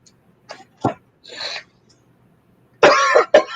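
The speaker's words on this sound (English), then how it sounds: "I got that nasty cough." A person coughs several times in short, sharp bursts, ending with two louder, harsher coughs close to the microphone, with quiet gaps between and no speech.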